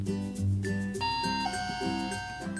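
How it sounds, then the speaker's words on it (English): A toy dollhouse doorbell plays a bright electronic chime, a short melodic tune of sustained tones, clear and close, with no voices. "I'll ring the doorbell."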